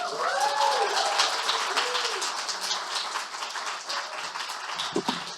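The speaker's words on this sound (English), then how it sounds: "Keep that round of applause going for the performers we've had tonight." Sustained applause from an audience at a Herstory Exeter spoken-word and performance evening, dense steady clapping carrying through the whole stretch with whoops and cheers riding on top, then dropping away near the end.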